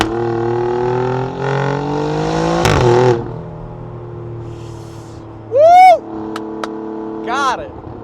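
Maserati MC20 engine in Race mode, rising revs with a loud blip and sharp upward sweeping tones, heard inside the car under talk.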